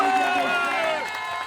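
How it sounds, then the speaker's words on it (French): Spectators cheer and yell at the finish of the AlpsMan, an extreme triathlon in France: a dense, loud wall of overlapping shouting voices that holds steady through the short moment, easing slightly toward the end. "La foule est en délire"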